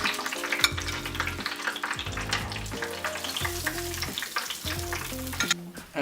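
Empanadas with cheese frying in hot oil, a steady close crackling sizzle that runs throughout.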